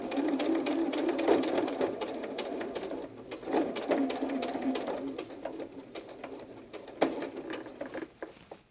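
Sewing machine stitching a fabric hedgehog softie, with bursts of rapid mechanical whirring and ticking that start and stop, fairly soft and close, with small clicks between runs.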